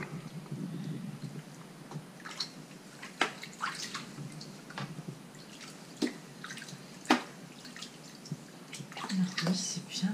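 Soft splashes and drips as a baby moves freely in bath water, intermittent close sloshes scattered over steady room tone, with quiet moments of a voice nearby.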